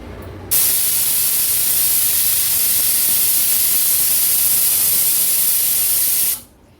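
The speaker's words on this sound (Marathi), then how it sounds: "कुकरचं झाकण लावून चार शिट्ट्या काढून घेते" A pressure cooker cooking toor dal lets off a loud, sustained steam hiss for about six seconds, starting abruptly and fading out at the end, heard close up with no talking.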